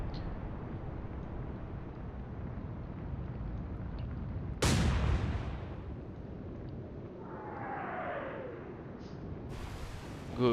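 Heavy 11-inch naval shells burst in an Atlantic Fleet naval battle: a loud, sharp explosion lands mid-sequence over a constant low rumble, followed by a rising whine and another burst at the end.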